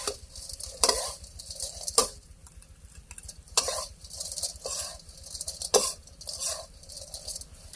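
Oyster mushrooms stir-fried in a pan, a low continuous sizzle broken by repeated sharp scraping strokes of a spatula at irregular intervals, close up with no voices.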